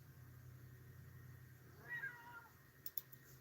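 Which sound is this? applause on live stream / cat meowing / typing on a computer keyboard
cat meowing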